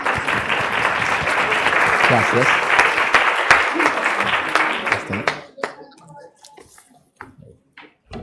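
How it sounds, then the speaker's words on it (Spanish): Strong applause welcomes a speaker at the Ruta Emprende 2019 entrepreneurship event: loud, dense clapping from an audience for about five seconds, then it stops abruptly and a voice speaks briefly amid scattered last claps. "lo recibimos con un fuerte aplauso"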